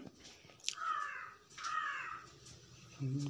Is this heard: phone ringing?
no